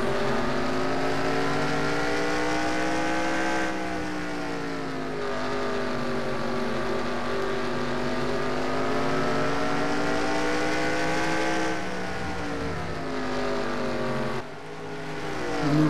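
Stock cars racing at Bristol heard from inside the car, a loud continuous engine drone whose pitch rises and falls through the laps, with brief dips as the driver lifts off.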